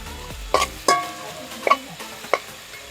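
Chicken bread kottu ingredients frying in a pan, with four or five sharp metallic clacks of a utensil stirring over a low, faint sizzle.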